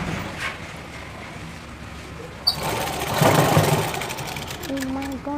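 An electric sewing machine stitches a blouse, whirring loudly and steadily for about three seconds after a quiet start, near and continuous, with a voice speaking at the end.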